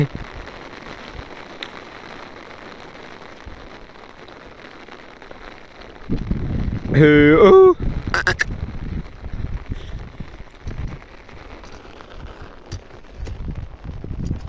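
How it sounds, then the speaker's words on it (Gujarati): Steady patter of rain on an umbrella, growing heavier partway through, with a brief duck-like quacking call cutting in near the middle. "છત્રીનો અવાજ ઉપરથી તમને ખબર પડતી ફાઇનલ આવે છે"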